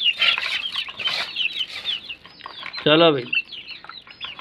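A hen at a backyard coop, being fed crushed eggshells, flaps its wings noisily and lets out one short, strained cluck-squawk near the end, with someone talking over parts of it.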